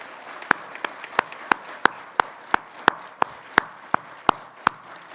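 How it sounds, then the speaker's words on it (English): Steady, evenly spaced hand claps from a graduation audience honouring Forth Valley College staff, about three per second, crisp and fairly close, with no talking over them. "give a round of applause to the staff of Forth Valley College"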